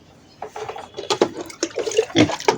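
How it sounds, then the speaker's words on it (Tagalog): Water poured out for piglets to drink behind a house, a rough splashing and gurgling pour in uneven bursts, close and moderately loud. "Painumin natin ng tubig."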